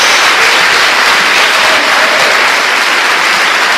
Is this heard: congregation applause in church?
yes